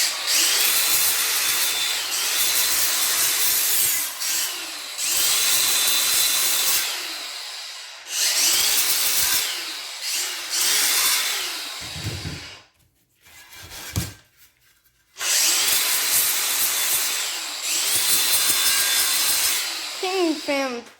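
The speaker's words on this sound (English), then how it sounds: "my Trusty. King Feng Fu Machinery Works drill press has pulled through." A King Feng Fu Machinery Works drill press bores into wood in several long, loud grinding passes separated by short pauses, with close rasping and rubbing textures.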